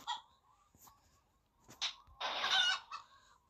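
Faint chicken clucks and short squawks in a video game come in scattered bursts, with a louder rustling flurry near the end, otherwise quiet.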